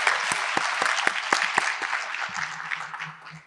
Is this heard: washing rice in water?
no